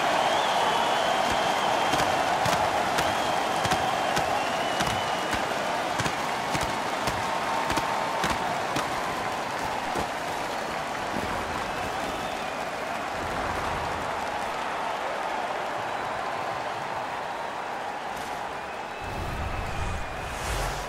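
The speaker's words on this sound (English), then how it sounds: "The home crowd is ecstatic. They're making all kinds of noise." The home crowd in an NHL 15 hockey video game roars after a fight, a dense sustained cheer with scattered sharp claps and bangs running for about twenty seconds at steady loudness.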